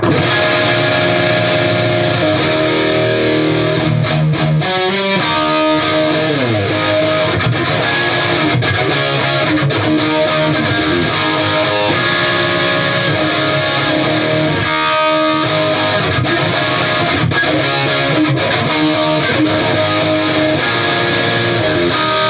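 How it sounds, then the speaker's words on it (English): Distorted electric guitar plays a song's riff, loud and continuous, with chugging chords and sustained notes and no talking. "I'm just going to play the distortion part."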